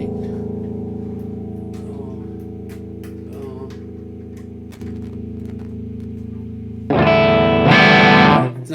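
An electric guitar runs through a Line 6 Helix floor processor into a Laney LFR 212 cabinet, sustained distorted chords ringing with effects before a louder, brighter burst of strumming at the end.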